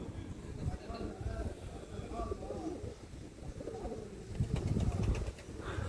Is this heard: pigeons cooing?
yes